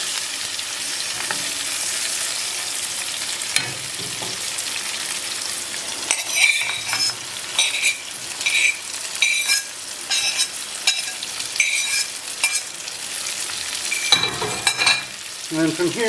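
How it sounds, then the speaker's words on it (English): Onion and potatoes fry in a pan with a steady, close sizzle, broken by repeated scraping stir strokes and light clinks of a utensil against the pan. No one speaks. "Stir that in, and then I'm going to stir in the potatoes."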